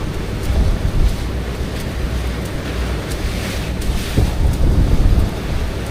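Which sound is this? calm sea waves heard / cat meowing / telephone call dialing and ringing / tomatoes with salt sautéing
calm sea waves heard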